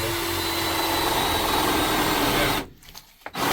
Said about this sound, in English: I'd take that drill and I'd just drill a hole